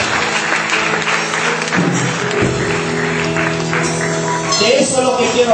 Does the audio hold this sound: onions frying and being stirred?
no